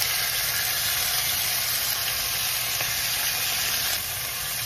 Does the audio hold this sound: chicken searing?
yes